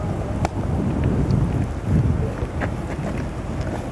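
Wind buffets the microphone at a cold, wet, windy campsite on a farm, a continuous low rumbling roar with gusts rising and falling throughout.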